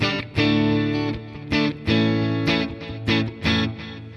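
Electric guitar played through a MeloAudio TS Mega foot controller with delay and reverb, loud strummed chords ringing out in bursts, each decaying into a lingering echoing tail.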